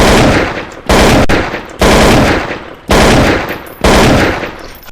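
Rifle fire in Counter-Strike: Source, with five loud, close shots spaced about a second apart, each a sharp crack followed by a decaying tail.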